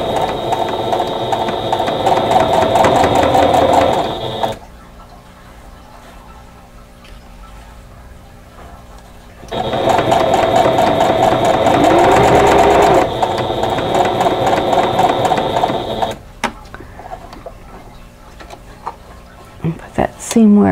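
A sewing machine runs with a foot pedal, its fast steady stitching clatter coming in two close bursts of several seconds each, separated by quiet, with a person talking.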